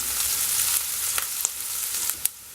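Green chillies and curry leaves frying in a pan for rava idli, a soft steady sizzle with a few faint stirring clicks, no talking.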